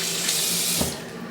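Tap water runs steadily into a washroom sink at a private men's club hand-washing station, a close hissing splash that eases off toward the end.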